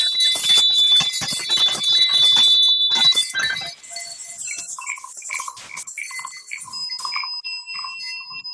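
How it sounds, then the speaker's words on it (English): Many people ringing handbells and chimes together over a video call at a church service, a dense jangling burst that thins into scattered, clearer individual rings and tones. "will unmute all of us as we ring our bells"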